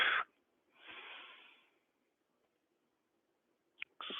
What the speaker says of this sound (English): I want to be on exhales